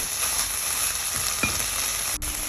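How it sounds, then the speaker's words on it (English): Steady crackling sizzle of chicken stir-frying over high heat in a hot pan for basil chicken, with a few brief scraping stirs and no voices. "continue stir frying under high heat until all the flavors are absorbed by the meat"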